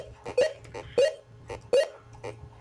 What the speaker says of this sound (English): When I go down, it makes a fart sound.